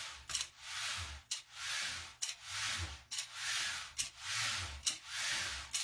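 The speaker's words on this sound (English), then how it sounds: "you just kind of give it a little pull, and it's going to just spin" A hand-pulled Hekate's jinx (iynx) wheel spins, making a rhythmic whirling whoosh that swells and fades about once a second, with soft rubbing under each swell.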